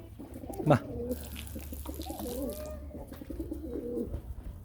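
Pigeons cooing at a loft during the breeding season, one bright call standing out early on and softer coos continuing over low background noise and a faint voice.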